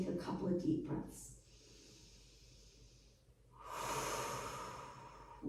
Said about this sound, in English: Hold it here and just take a couple of deep breaths.